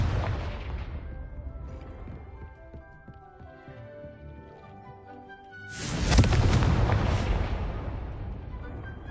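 A Confringo spell explosion in the Hogwarts Legacy game: a first blast fades into a ringing, tonal tail, and a second, louder explosive burst follows about six seconds in, both with no voices.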